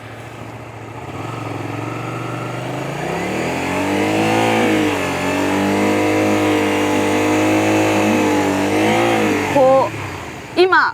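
A motorcycle engine during slow U-turn practice using only the rear brake, idling then revving up and settling in sustained surges, close and loud, with someone speaking briefly over it near the end.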